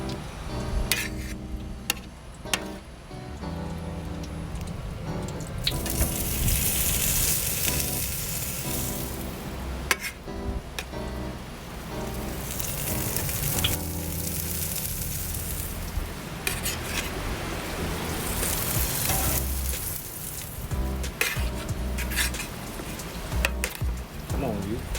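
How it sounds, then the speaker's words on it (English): Smoked wagyu burgers searing on a very hot surface give off a loud, continuous crackling sizzle that surges and eases over time, with occasional metallic scrapes and taps. "We're gonna sear these off real quick, melt the cheese, and get to eating."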